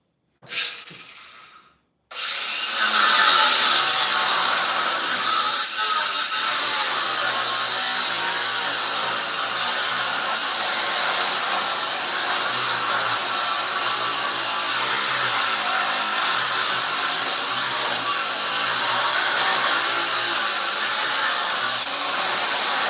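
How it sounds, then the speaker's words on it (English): A power tool cuts welds off metal, a brief burst followed after a pause by a loud, steady, close-up roaring whine that runs unbroken for about twenty seconds. "Cut the welds off."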